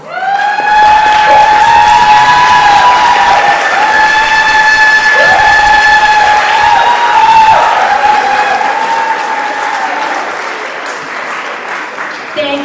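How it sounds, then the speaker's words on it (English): Round of applause and cheering for ESL CNA program teachers at a community learning center graduation ceremony, loud sustained clapping with whooping voices riding over it, gradually tapering near the end. "stand up so we can give you a round of applause"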